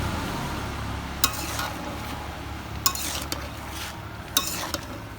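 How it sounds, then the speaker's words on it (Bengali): Vegetables cook in a pan while a utensil stirs and scrapes, with a few sharp clinks against the pan over a soft steady sizzle, close by in a home kitchen. "এটা রান্না করতেছি সবজি।"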